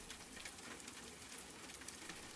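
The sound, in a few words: light rain falling outside a window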